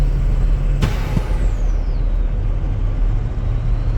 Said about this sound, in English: I just blew a boost hose, I can tell you that for free.